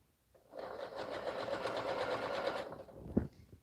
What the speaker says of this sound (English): I can just start sewing now